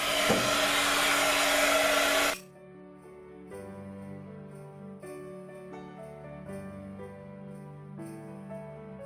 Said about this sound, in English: So again, I'm going to let my heat tool heat up.